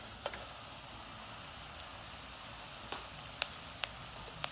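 Saffron pilaf rice with plumped raisins sizzling softly in a pan over a lowered flame, a faint steady hiss with a few small pops and light stirring clicks.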